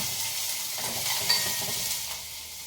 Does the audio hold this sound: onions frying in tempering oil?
yes